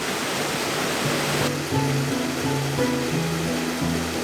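Euchan Falls, a waterfall heard from down at its base, roars as a loud, steady broadband rush of falling water, close and continuous, while a faint melodic tone plays underneath.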